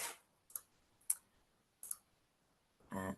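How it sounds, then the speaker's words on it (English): A few sharp, isolated mouse clicks sound close in an otherwise quiet room, spaced about half a second apart. "Let me just click back."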